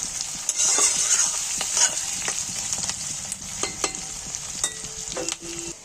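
Raw potatoes fry together with other ingredients in a hot pan, giving a loud, continuous sizzle broken by frequent clattering stirs and scrapes close by, with no talking.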